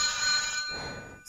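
Telephone ringing in a Japanese video game, a loud continuous electronic ring that cuts off partway, followed by a softer tone and a brief bright burst at the end.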